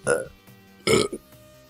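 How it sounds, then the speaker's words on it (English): Two loud, throaty burps in a row from a person, the second longer and more forceful than the first, heard close up, with faint background sound between them. "Double burp"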